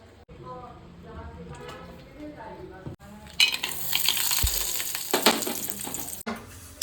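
A tempering for curd rice hits the hot pan and crackles and sizzles loudly for a few seconds after someone speaks quietly in Kannada over soft kitchen noise.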